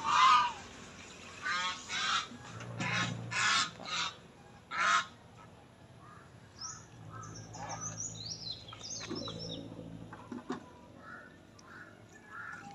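Domestic backyard geese honking loudly in repeated bursts around feeding time, with quieter clucking and calls from other poultry in between.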